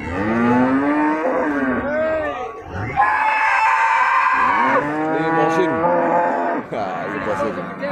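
Limousin cattle moo loudly and close by, with several long, drawn-out calls overlapping, over a busy livestock-area background with faint rooster crowing and crowd murmur.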